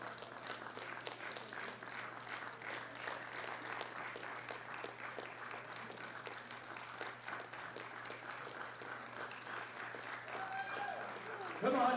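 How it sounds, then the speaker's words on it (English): Faint, continuous audience applause rolls through an arena at a world powerlifting championship as the sub-junior and junior lifters are escorted onto the platform, the clapping sustained and distant with an announcer talking over it. "give them a big round of applause as they all get escorted out onto the platform"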